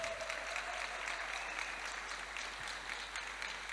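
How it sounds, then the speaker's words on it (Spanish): A church congregation at Plenitud de Vida in San Martín, Mendoza applauds in a steady, even wash of clapping that fills the room without a break, with a faint sustained tone under it. "le damos un fuerte aplauso a todos aquellos que nos ven."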